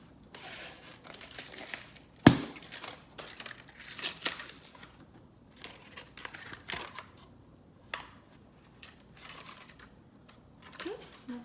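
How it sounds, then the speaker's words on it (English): A can of refrigerated biscuits is opened in a kitchen: scattered crinkling and tearing of the paper wrapper, a sharp pop near the start, then soft handling noises, close and fairly quiet. "So first we're going to open the biscuits."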